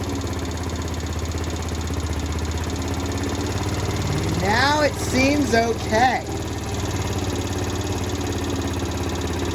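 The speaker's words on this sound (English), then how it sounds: "So the scooter's running." A scooter engine idles steadily at close range throughout, with a voice speaking briefly over the running engine midway through.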